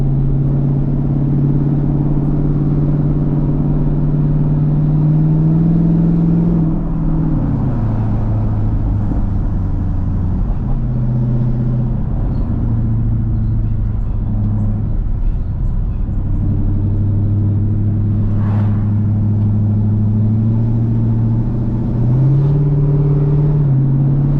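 A car engine hums steadily from inside the cabin while driving, a low continuous drone that shifts pitch a few times as the gears change, loud and close throughout with no talk.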